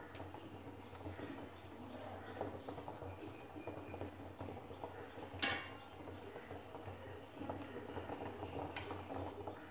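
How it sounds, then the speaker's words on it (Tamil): A low steady bubbling simmer of tamarind curry with field beans, brinjal and drumstick fills the background, with an occasional sharp clink of a utensil against a pot. "இது நல்லா கொதிக்கட்டும்"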